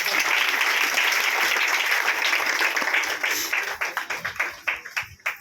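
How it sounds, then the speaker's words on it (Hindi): A church prayer-meeting congregation claps together, a steady wash of many hands that turns into distinct rhythmic claps toward the end, with faint voices underneath. "आइए हम ताली बजाते हैं"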